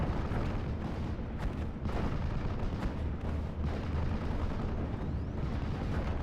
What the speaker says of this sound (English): You got an Axis time on target right here, and we do got this Flammable Warfare barrage.